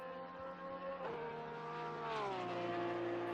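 Porsche race car with a 3.8 litre turbocharged flat-six boxer engine at the Hungaroring, a loud steady engine drone close by that drops in pitch as the car shifts down through the gears into a corner.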